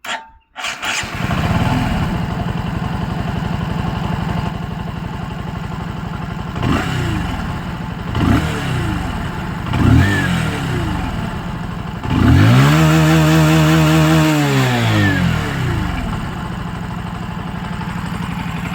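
A Bajaj Pulsar NS 125 motorcycle cranks, catches and settles into a loud, close idle, with several blips of the throttle and one longer rev rising then falling near the middle.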